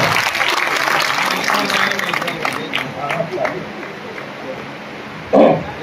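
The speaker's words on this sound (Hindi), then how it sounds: "तालियों से जोरदार इस्तकबाल करें।" Loud applause from a crowd at a felicitation ceremony for school exam toppers, dense clapping that gradually thins and fades away.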